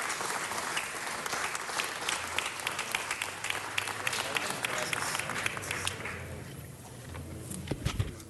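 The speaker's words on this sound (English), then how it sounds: "let's give the delegation a big round of applause" Dense, sustained applause fills a city council chamber for a visiting delegation during an El Día del Yucateco celebration, loud and steady for several seconds before thinning out toward the end.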